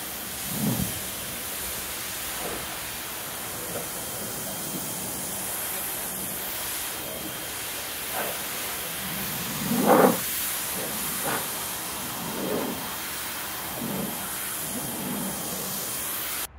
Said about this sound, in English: This is with the 40 degree spray.